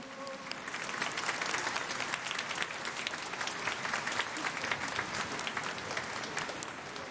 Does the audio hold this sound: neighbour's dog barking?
no